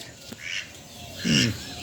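Ducks, one having escaped a dog's bite, give a couple of short nasal quacks up close outdoors, with a faint sharp call just before.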